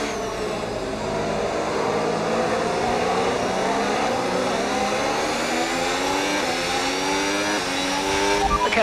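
In a video game, an F1 race car roars through the final lap, its engine holding a continuous loud whine that climbs and shifts through gears, with no talk over it.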